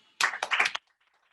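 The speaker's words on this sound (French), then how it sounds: "Alors, mes amis, vos applaudissements" Audience at an online Zoom meeting clapping, a short burst of a few hands lasting under a second, close and dry, with silence before and after.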